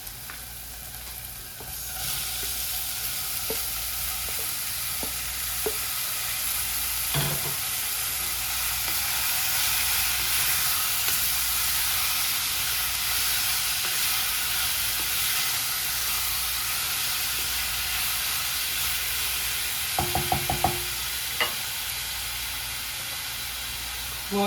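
Onion, garlic, tomato and grated carrot fry in a pan with a steady close sizzle and hiss throughout, broken by occasional scrapes and clinks of stirring.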